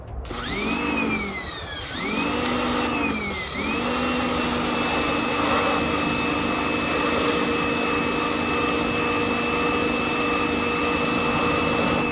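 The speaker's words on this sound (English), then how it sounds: "I do have a pressure washer, but it's a low pressure washer" A low-pressure washer starting up in short bursts, then running as a loud, steady whining motor drone with hissing spray while cleaning a diesel particulate filter.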